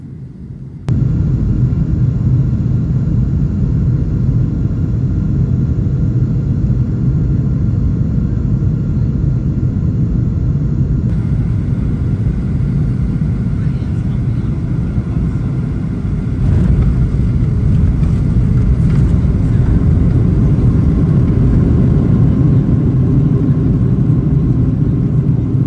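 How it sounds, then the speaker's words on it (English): A Boeing 737-900 airliner lands at Washington Dulles from inside the economy cabin, with a steady loud engine and airflow roar and rumble that swells and shifts partway through as the jet touches down. "This afternoon, we will be landing from the south on runway 1 center."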